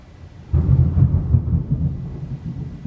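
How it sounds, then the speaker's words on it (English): Low, rolling thunder rumbles in from a storm, swelling abruptly after a quiet start and continuing as a sustained deep roar with soft crackles, fairly close and fading only slightly toward the end. "And some more thunder."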